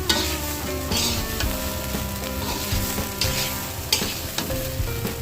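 Rice grains sizzle and crackle as they are fried and stirred in a kadai, a steady close-up frying hiss with occasional scrapes throughout.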